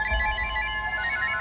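A telephone rings with an incoming call in a family home, a bright repeating electronic ringtone heard clearly and alone for a moment, with a brief higher burst near the end.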